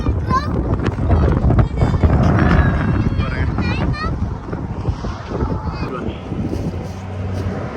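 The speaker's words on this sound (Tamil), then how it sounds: "டேய் செம்ம மண்ணு காத்தடிக்குதுடா." Strong sandy wind blows across open desert, buffeting the microphone in loud gusty roars that ease off toward the end. A voice is heard through the blustering.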